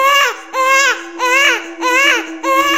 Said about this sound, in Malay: Tapi tiba-tiba ada suara budak kecil menangis.